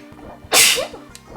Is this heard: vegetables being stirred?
no